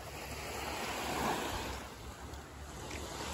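Waves washing onto a beach at a fishing spot near sundown, a steady broad rush of surf with wind buffeting the microphone and no talk.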